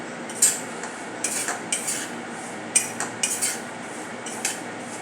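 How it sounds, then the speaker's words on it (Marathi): Semolina dry-roasts on a low flame in a pan for rava laddoo while a spoon stirs it, giving a series of light, irregular scrapes and clinks against the metal over a quiet background. "रवा आपण चांगल्या प्रकारे भाजून घेतो आहे"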